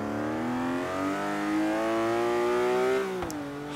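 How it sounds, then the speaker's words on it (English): The TVR Sagaris straight-six in Forza Horizon 3 pulls through a steady climbing acceleration, its growly tone rising evenly before a quick gear-change dip near the end, with no voices. "That straight 6 noise as well."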